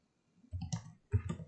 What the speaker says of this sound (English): right mouse click on that solid